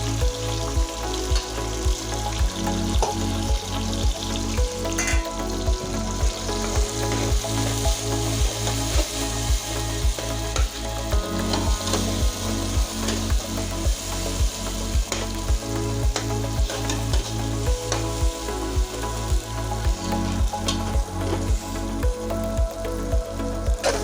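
Tomato-based fish masala paste with salt, turmeric and chilli powder fries in oil for a wire and bam fish curry, giving a loud, continuous sizzle. The spatula stirs it in steady, regular strokes throughout, with no one speaking.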